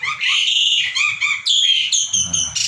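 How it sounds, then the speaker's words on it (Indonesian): An Asian pied starling (jalak suren) sings up close and loud, with bright whistled phrases that come in quick bursts and short pauses and change pitch and texture from one phrase to the next. "Ini adalah burung jalak suren."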